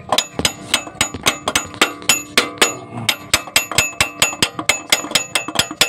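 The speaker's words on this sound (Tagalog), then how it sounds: "pupukayin natin yung itong martilyo" Repeated sharp metallic hammer blows, loud and close, struck in a fairly steady rhythm on a clip lock of a Toyota Wigo's air conditioning parts, with a ringing clang on each hit.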